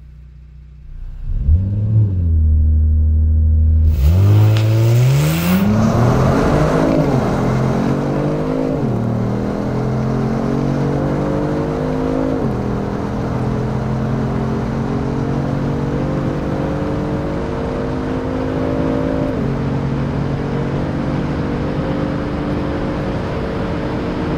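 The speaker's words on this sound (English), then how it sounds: "even in full manual mode, the car will upshift for you at redline" A Kia Stinger GTS engine starts and revs hard, then the car accelerates with rising whine through several gear changes at redline, settling into a steady loud drone.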